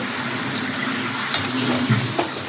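Five-spice mix and dry red chillies hitting hot oil, a steady broadband sizzle with a couple of small pops and a faint spoon scrape near the end, close and loud, without talk.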